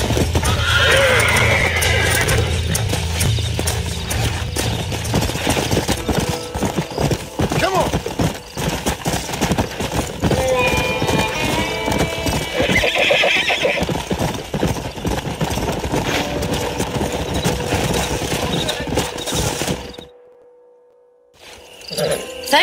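Horses in the video game Red Dead Redemption whinny and neigh while hooves clip-clop steadily over ambient game sounds, with voices talking at times before the sound cuts out near the end.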